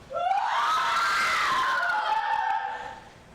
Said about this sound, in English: It is the cry of women